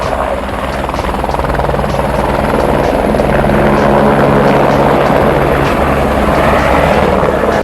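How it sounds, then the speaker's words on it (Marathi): A helicopter landing at Kedarnath roars close and loud, its rotor chopping in a steady rhythmic pulse over a constant engine drone that swells slightly as it goes on. "आपण हेलिकॉप्टर उतरता यायला बघायला लागलो आहे"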